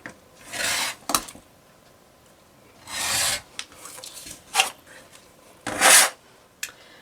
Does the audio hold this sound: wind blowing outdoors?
no